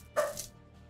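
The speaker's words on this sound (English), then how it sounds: "Why are you barking at stuff, girl?" A dog gives a single sharp bark, loud and close in an indoor room during a trading card pack opening, followed by quiet.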